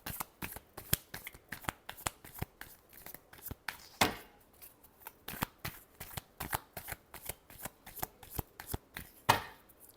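Playing cards, likely a tarot deck for a reading, are shuffled by hand in a rapid series of crisp flicks and riffles, close and fairly quiet, with no one speaking.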